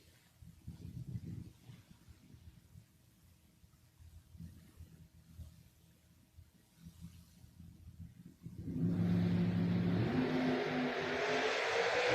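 At a Super Pro drag race, a Ford Mustang and a Chevrolet Monza are heard first as a low distant engine rumble, then about two-thirds through a sudden loud roar of hard acceleration surges close by and holds.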